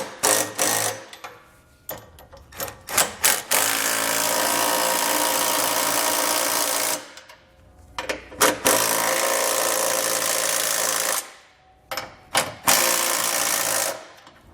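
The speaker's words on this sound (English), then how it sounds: "come back with a 19mm socket and snug down our" Ratchet or impact driver snugging 19mm bolts on a Curt trailer hitch receiver on a 2011 Ford Edge: loud sustained mechanical whirring in three long bursts separated by brief clicks and pauses.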